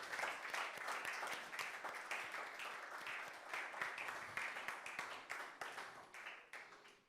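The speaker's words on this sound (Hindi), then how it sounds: "तालियां बजाई जाए इन तीनों के लिए।" A church congregation claps for three children, producing a fairly quiet, steady patter of applause that thins and fades toward the end.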